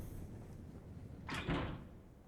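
Locked door tried in the horror video game Spirit Hunter: Death Mark, a short muffled rattle and thud over a steady low ambient drone.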